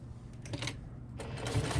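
A sewing machine stitches a tote bag seam with a half-inch allowance, a quiet rapid mechanical chatter running in two short bursts with a brief pause between, and no talk.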